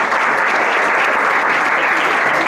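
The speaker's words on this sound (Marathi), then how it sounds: "सर्वांनी टाळ्या वाजवून या ठिकाणी त्यांचं" A crowd at a Janki Gaushala gathering gives dense, sustained applause for Guru Ravindra Maharaj Devlikar, an even wash of many hands clapping with no pauses.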